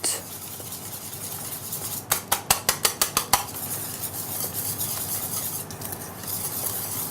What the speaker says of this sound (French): on va mettre les œufs. Voilà. Et on mélange le tout